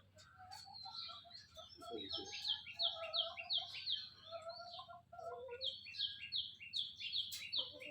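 Several birds call and chirp from the top of a mango tree in a village garden, with repeated bright chirps and trilling phrases throughout over faint background noise; the caller may be a hornbill.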